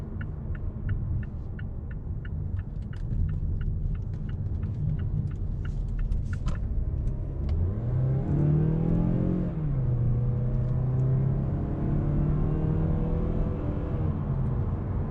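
A 2019 Mazda6 sedan accelerates in sport mode, its engine note rising and holding a gear longer, a steady close cabin rumble with a turn signal ticking early on, and no talk.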